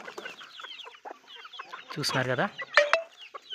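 Native country chickens on a farm cluck together in a busy, overlapping chorus, with one louder, harmonic call standing out near the middle; someone talks briefly over the birds.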